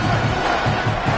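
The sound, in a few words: home stadium crowd cheering at Michigan football game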